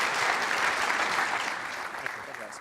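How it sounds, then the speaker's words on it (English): Audience applause at a digital advertising conference, a steady wash of clapping from a sizable crowd that gradually thins and fades toward the end. "Please give our friends from WPP a round of applause."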